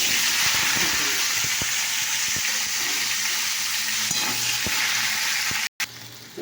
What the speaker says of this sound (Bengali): কড়াইয়ে তেল দিয়ে দেওয়া হয়েছে, তাই দেখো আমি আলু কটা এখানে